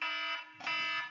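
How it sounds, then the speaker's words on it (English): A timer alarm beeps loudly and continuously for about a second, a harsh electronic tone with a brief dip in the middle, heard close up with no talking. "That's actually the timer going off."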